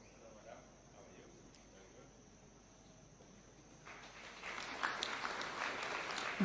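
Applause at a taxpayer awards ceremony in Kenya, rising from a quiet hum with faint chatter into a broad wash of clapping from a large audience over the last few seconds.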